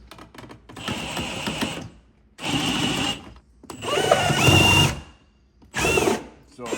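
A power drill with a large bit bores through the wood framing of a new garage bathroom wall in four loud, close bursts separated by short pauses, the motor whining and grinding as it cuts.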